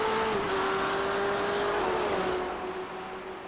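GTE sports car engine under power in iRacing, a loud, steady high-pitched drone that sags slightly in pitch and fades a little toward the end, with no voices over it.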